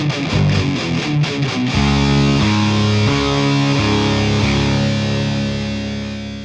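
A song's outro at full band volume, with the bass rocking between root and fifth under thick distorted guitars, steady repeating low notes stepping back and forth, loud and dense.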